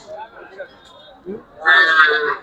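Sahiwal cattle at a busy livestock market, with one loud lowing moo rising near the end after faint background chatter and other livestock sounds.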